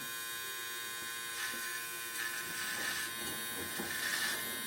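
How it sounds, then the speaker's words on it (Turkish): A Powertec TR 758 electric clipper trimming a beard, a steady close buzzing motor hum with soft rasping swells as the blades pass through the hair, fairly quiet and without speech. "Şimdi bugün onunla e, sakallarımızı tıraş etmeyi deneyeceğiz."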